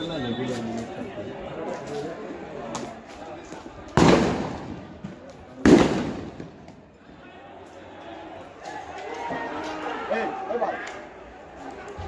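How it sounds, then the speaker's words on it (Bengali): Two sharp, loud blasts about two seconds apart ring out over a busy street clash in Khulna as police fire sound grenades and rubber bullets, with crowd chatter and voices running underneath throughout. "পুলিশ সাউন্ড গ্রেনেড নিয়ে রাবার বুলেট চালাচ্ছে পুলিশ"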